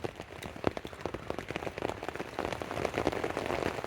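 Steady rain patters on a tent fabric outdoors, a dense, continuous crackle of close drops with scattered sharper taps, building slightly louder toward the end.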